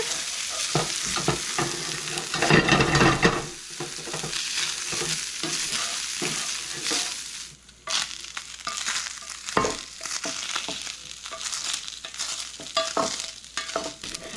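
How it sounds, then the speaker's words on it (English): Meat searing with bacon in a pan, a loud continuous sizzle and crackle with stirring scrapes throughout, briefly surging and then settling, with no voices. "the sear on the meat's what we're looking for"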